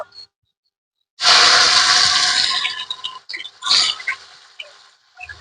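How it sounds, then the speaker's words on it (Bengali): Five finely chopped onions hit hot oil in a pan for a Bengali-style chicken dish. A sudden loud burst of sizzling and crackling settles into a steady hiss with scattered pops, then dwindles into brief sputtering bursts. "এখানে আমি পাঁচটা পেঁয়াজ কুচি করে নিয়েছি এবার তেলের মধ্যে দিয়ে দেব"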